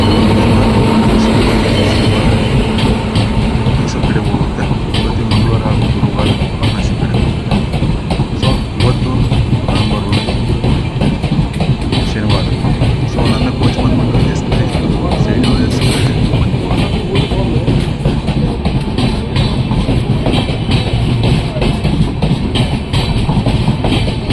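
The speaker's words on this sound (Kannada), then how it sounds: "ನಮ್ಮ ಟ್ರೈನ್ ಬಂತು W to six double eight Varanasi to Mysuru junction super fast" The Varanasi to Mysore Junction superfast express, hauled by a WAP-7 locomotive, rolls into a station with a loud, continuous rumble and clattering wheels, close by and with speech partly audible over it.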